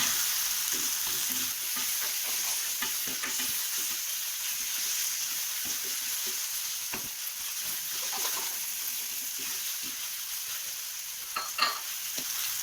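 Potatoes sautéing in a pan for mushroom masala dosa, a steady soft sizzle with occasional stirring scrapes throughout, close and continuous with no talking.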